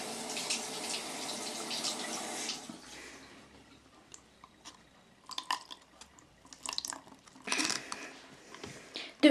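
Water is poured into a small homemade rain catcher, with a splashy stream at the start, then quieter scattered drips and short bursts of pouring and trickling, close up and without talk.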